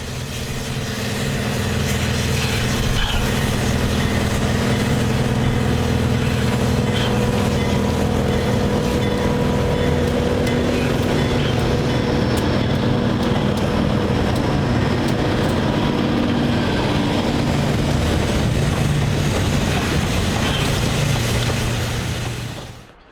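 White Pass steam locomotive 73 rumbles across a low trestle over the Thompson River with heavy, steady chugging and a low mechanical roar, loud and sustained, fading at the very end.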